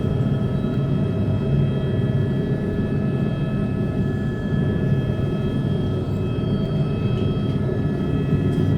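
A Texas DPS helicopter flies over McAllen, heard as a steady, loud rumbling drone with a faint high whine that holds constant throughout.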